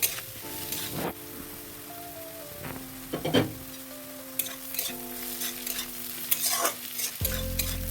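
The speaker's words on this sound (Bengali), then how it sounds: "সয়া সস দেওয়ার পর ভালো করে সবজির সাথে এইভাবে নাড়াচাড়া করে মিশিয়ে নিতে হবে" Vegetables with peas and chopped green chilli are stir-fried for egg fried rice, giving a steady sizzle under repeated scraping and stirring strokes of a spatula in the pan.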